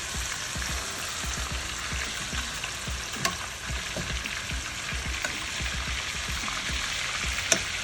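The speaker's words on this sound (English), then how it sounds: "The butter melts." Butter sizzles and fries steadily in a pan while steak cooks, a continuous crackling hiss with occasional small pops, moderately quiet and without talk.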